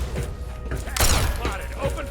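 A burst of gunfire goes off in the video game Fallout 3, a dense crackling volley about a second long, with voices and other game sounds around it.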